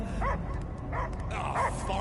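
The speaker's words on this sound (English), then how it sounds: "I hear only barking." A dog in the PS5 game Guardians of the Galaxy gives a few short barks and yips in quick succession, close and moderately loud over game ambience and a voice.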